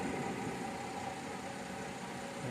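A 2013 Mercedes ML engine idles at a low, steady rumble, fairly quiet and unchanging throughout.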